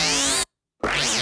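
A Serum synth lead variation from a track plays two sustained phrases separated by a short silence, bright and harmonically rich with a swept, rising-then-falling upper tone, loud and alone.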